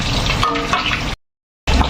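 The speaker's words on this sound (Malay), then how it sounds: "Goreng sehingga betul-betul garing macam ni." Tilapia fish frying in hot oil until crisp, a steady close broadband sizzle that cuts out briefly to silence and then resumes.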